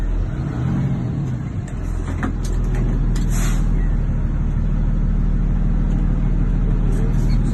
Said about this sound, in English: When I press my brake, my bus stops.